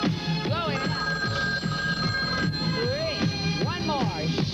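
A telephone in a film scene rings repeatedly in a bright, trilling pattern while voices and background music carry on underneath.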